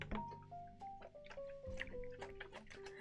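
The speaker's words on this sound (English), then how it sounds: "That's as much water as I have in my gigantic water bottle right now" Water glugs and trickles from a gigantic water bottle in a quick run of gurgles with rising, bubbling tones, close and fairly faint.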